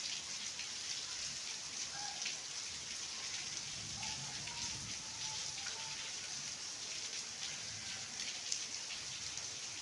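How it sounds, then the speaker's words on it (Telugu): Fine rain falls steadily over lush green surroundings at a Shiva temple, an even, unbroken hiss of drops spread across the whole stretch with no talking. "వర్షం దెబ్బ సన్నగా కనబడుతుంది"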